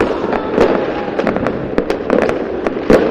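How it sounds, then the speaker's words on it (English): Fireworks bursting near a pyrotechnician's workshop, a rapid irregular series of sharp cracks and pops, loud and close, with crackling between the bangs and no talk. "I build fireworks, and I used to build them down here"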